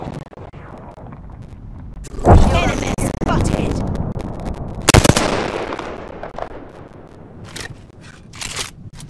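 Gunfire bursts in the Apex Legends battle royale game ring out in a few loud cracks and rattles, with a sharp cluster early and another in the middle, mixed under ongoing talk from a player.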